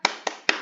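Three sharp, evenly spaced claps from a group of children doing a rhythmic spirit clap in a classroom, loud and close with no talking over them.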